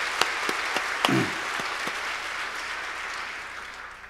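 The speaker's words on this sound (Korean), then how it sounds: "우리 격려의 박수 한번 보내드리도록 하겠습니다" Congregation at a Korean Sunday worship service giving a round of encouraging applause, a broad steady patter of clapping with a few sharp louder claps standing out and a brief low voice mid-way.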